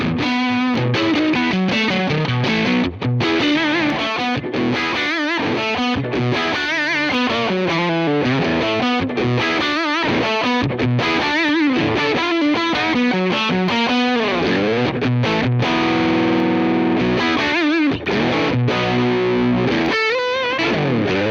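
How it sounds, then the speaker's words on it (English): Loud, thick overdriven electric guitar playing a continuous riff, a boost pedal adding drive, with a gritty, saturated distortion throughout. "We can hear the additional drive."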